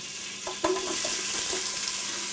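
Chopped onion and celery dropped into a hot pot with chicken for chicken soup, a brief clatter and thump followed by a steady, bright sizzle.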